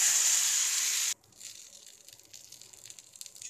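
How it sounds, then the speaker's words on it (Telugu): Oil sizzling loudly on a hot pan as omelette batter goes in, a bright hiss for the first second that then drops to a quieter, crackling fry. "పెనం హీట్ అయినాక కొద్దిగా ఆయిల్ స్ప్రెడ్ చేసి మనం ఆమ్లెట్ వేసుకుందాం."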